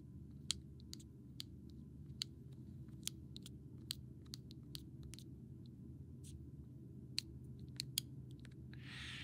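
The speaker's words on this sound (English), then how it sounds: "it's definitely got like a clicking sound going on now." Small sharp clicks from a CYNOVA screen protector on an Insta360 X4 camera as it lifts and resticks, sounding as a dozen faint irregular ticks over a steady low hum.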